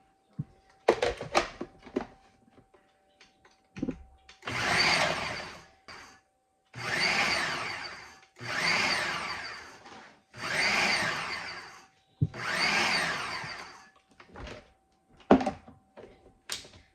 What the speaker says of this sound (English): now we're going to chop them up in the Ninja